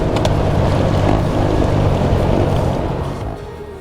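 A Honda CRF450RL dirt bike set up for adventure riding crosses a creek in rugged high country, with a loud continuous rush of splashing water, engine noise and wind buffeting that eases slightly toward the end.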